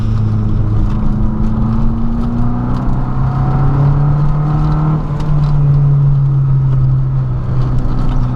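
Saab 900 Turbo driven on neighborhood streets, heard from inside the cabin: a steady, loud engine drone with rising and falling pitch as it revs and shifts, plus road rumble throughout.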